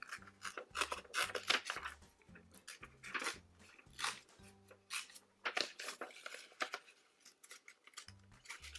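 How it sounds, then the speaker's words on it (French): Tracing paper being torn by hand into pieces, a series of short, close rasping rips in quick irregular bursts with brief pauses between them. "On déchire, on déchire, on déchire."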